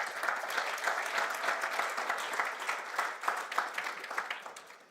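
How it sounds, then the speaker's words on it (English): Applause at a health conference closing ceremony, a sustained even roar of many hands clapping at moderate distance that fades slightly at the end. "request another round of applause to the EOC"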